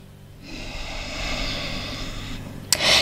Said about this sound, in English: Steady your breath, taking a couple of deep breaths in and out through the nose